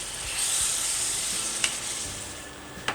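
Spiced chicken filling drops into hot oil in a pan and sizzles, a steady close hiss with a couple of sharp crackles and pops toward the end, no voices.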